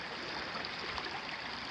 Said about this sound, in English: I could actually hear the water as I was coming up. So we got ourselves a creek.